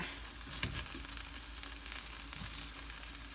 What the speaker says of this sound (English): now I will just fluff my rice with the fork and just mix everything together